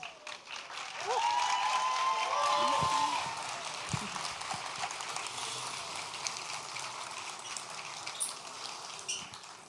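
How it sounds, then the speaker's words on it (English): An audience applauds for Fatima, a Bharatanatyam dancer, with steady, dense clapping that swells early and continues at an even level for about ten seconds, with a brief tonal sound near the start. "give a warm applause for Fatima."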